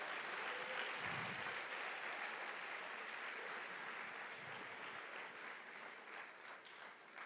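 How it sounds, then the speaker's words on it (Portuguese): A church congregation at a Baptist service bursts into sustained, dense applause, loud and steady throughout, slowly easing toward the end with a few voices faintly mixed in. "Dê para Jesus uma forte salva de palmas."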